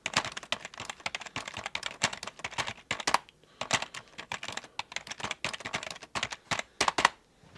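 Keys clatter on a Marvo Scorpion KW512 wireless gaming keyboard in quick, irregular bursts of clicks with short pauses, close and fairly quiet.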